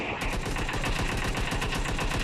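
Loud gunfire from the PUBG battle royale game rattles in rapid, continuous bursts of closely spaced shots, with no talking over it.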